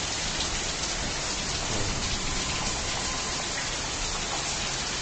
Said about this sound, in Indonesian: Situasi sekarang hujan guys.